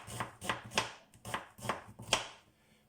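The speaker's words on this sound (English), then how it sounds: "They need to be sliced because I need to fry these onions for the decoration of the biryani" Onions being sliced with a knife on a board for chicken biryani: six crisp, close chopping strokes in an even rhythm, clean and quiet with no talk.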